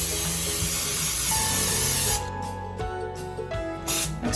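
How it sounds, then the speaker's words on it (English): A can of cooking spray hisses onto a tube pan in a long continuous burst, then several shorter spurts follow, close and loud. "let me take my tube pan and spray it generously"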